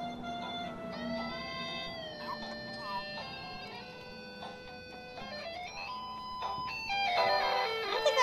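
A tinkly mechanical melody of bright plucked notes plays steadily from a music box with an Oreo cookie on it, with faint voices and handling noises in the background.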